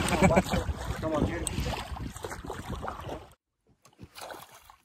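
A small fishing boat moves across water, its hull and motion giving a rough broadband wash with wind buffeting the microphone, then dropping to near silence before faint splashing returns; voices talk over much of it.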